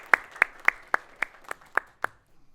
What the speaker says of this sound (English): Can I please have a big round of applause for the volunteers?